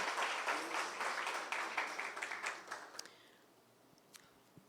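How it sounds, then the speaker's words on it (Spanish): Church congregation claps together in warm applause that fades out after a few seconds, leaving a quiet room with a couple of stray sounds. "vamos a darle ese aplauso a Él como se lo merece"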